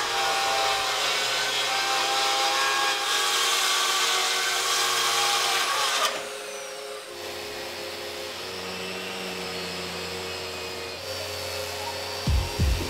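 Power sander working over a very large epoxy resin and wood table, a steady loud whine and rub that drops to a lower, quieter drone midway before a few brief knocks at the end.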